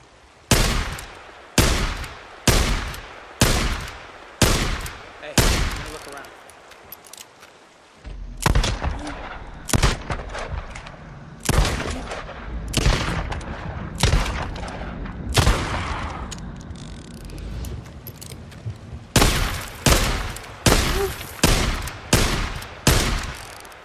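Single pistol shots from a sidearm in the Days Gone video game ring out one at a time in a steady, evenly spaced rhythm, each sharp crack trailing a short echo, with a brief pause partway through.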